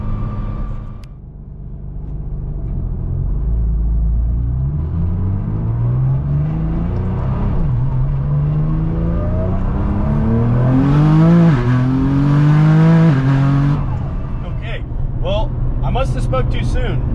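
A roughly 900-horsepower drift car's engine pulls hard at full throttle, its tone climbing steadily upward to a loud peak before backing off, with a voice talking near the end.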